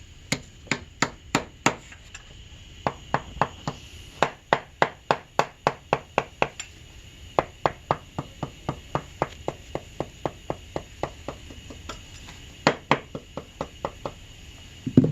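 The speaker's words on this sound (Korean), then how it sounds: "이 못을 박는 게 힘이 덜 가기 때문에" Sharp hammer blows drive nails into a handmade sneaker, dozens of crisp close strikes in quick runs separated by brief pauses, heard alone without talk.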